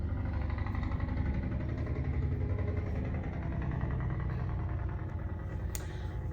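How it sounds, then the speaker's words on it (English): A loud truck drives past a house, its heavy engine rumble steady and close throughout, with no voices. "That was a truck going by my house, that big loud noise."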